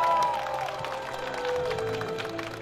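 Applause at a university graduation ceremony as a faculty dean is welcomed, steady clapping from a large audience with a hall-like, somewhat distant quality.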